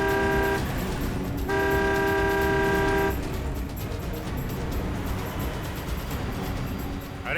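Car chase on a road as one car overtakes another: engines roar under long, repeated horn blasts with a steady loud motor noise throughout and no voices.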